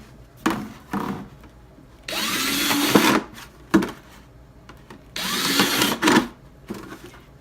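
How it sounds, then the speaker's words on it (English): A power drill bores drainage holes through a plastic jug in repeated bursts, with short bites alternating with two longer, louder grinding runs of the bit. "And then I drill 1 here"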